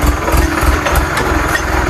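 A tractor engine idling close by, a loud steady low chugging with a regular rapid pulse and no speech over it.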